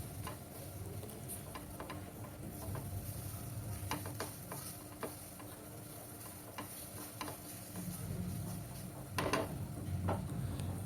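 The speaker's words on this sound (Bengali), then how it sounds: "একদম লো টু মিডিয়াম আঁচে রেখে এটাকে নেড়ে চেড়ে রান্না করে নেব।" Steady scraping stir of grated potatoes frying in a pan over low to medium heat, soft sizzling underneath with occasional light spatula taps, quiet and close with no talking.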